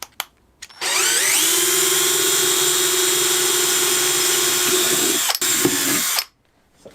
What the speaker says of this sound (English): I'm gonna start with the pilot hole.